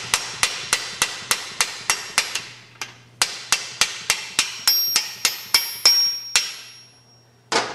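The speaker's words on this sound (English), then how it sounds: "I just take a 3/4 inch deep well socket, stick the bearing up on the shaft, put that on there like that, and just drive the bearing into the transmission." A hammer strikes a 3/4 inch deep well socket to drive a bearing onto the shaft and into a Super Cub three-speed transmission. Roughly twenty sharp metallic blows land close and loud in an even rhythm, with one short pause midway.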